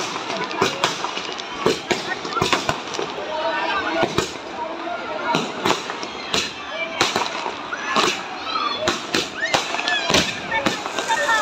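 A string of firecrackers bursts outdoors at a Diwali celebration, with repeated sharp cracks and bangs popping irregularly and fairly close while people talk in the background.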